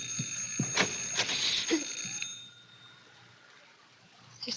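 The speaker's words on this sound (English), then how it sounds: "Because the doorbell is ringing." Radio drama sound effect of a doorbell ringing in several quick metallic bursts, bright and close, then falling away to quiet room tone.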